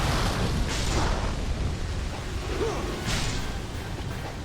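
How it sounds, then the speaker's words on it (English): A huge explosion in the action game Ninja Gaiden Sigma 2: a dense, roaring blast with whooshing bursts that stays loud and sustained, filling the scene without speech. "That's a big explosion."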